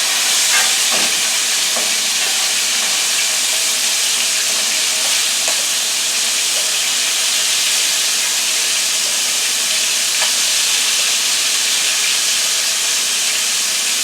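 Buttermilk-coated chicken wings frying fast in hot oil, a loud, steady sizzle and hiss with scattered crackles and pops running continuously and close up, no talking.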